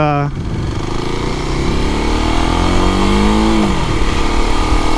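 A Kawasaki KLX 250 dirt bike revs hard off-road, close and loud, its engine note climbing steadily and then dropping back, with talk over the top.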